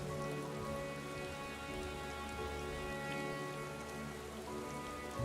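Video game rain in a city setting patters steadily on a surface, a soft continuous hiss with a faint humming tone underneath, no voices.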